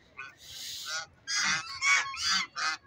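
Loud, nasal honking calls from ducks at Allama Iqbal Park, several harsh squawks in a row, close by, with short gaps between them.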